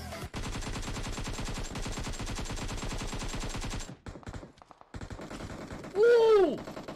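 Sniper rifle and other gunfire in a video game, a dense rapid run of loud shots for several seconds, then scattered quieter reports and a voice exclaiming near the end.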